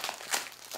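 A plastic bag is crumpled and discarded while unpacking a diamond painting order, giving a close, brief crinkling rustle with a sharper crackle near the middle.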